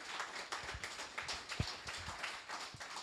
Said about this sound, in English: So, yeah, small little clap.